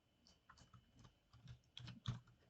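Keys on a computer keyboard tap out text into an Excel spreadsheet in soft, irregular clusters that grow slightly louder toward the end, with no voices.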